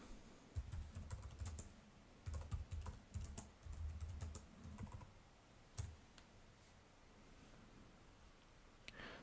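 A computer keyboard being typed on to enter a command for MD80 actuators, quick bursts of close keystrokes separated by short pauses, then a last few taps and quiet.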